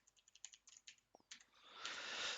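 Keys clatter on a computer keyboard as a new password is typed, a quick run of light separate clicks followed by a louder hissy rustle, close and without speech.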